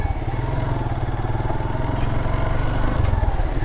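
A Suzuki Gixxer motorcycle's engine drones steadily at close range while riding, a low pulsing hum with slight rises in pitch and no talk over it.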